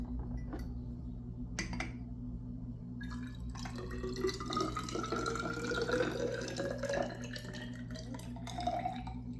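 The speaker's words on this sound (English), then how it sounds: "we're going to pour that into the Erlenmeyer flask" Liquid is poured into a glass Erlenmeyer flask in a lab setting, giving a continuous trickling, splashing stream with a few light glassy clinks, steady and close over a low background hum.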